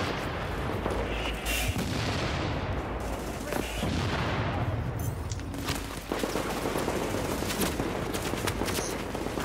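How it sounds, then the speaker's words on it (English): Mortar fire in Tom Clancy's The Division, a dense, continuous barrage of booming impacts and rattling gunfire, loud and close throughout with no letup. "Those mortars on him!"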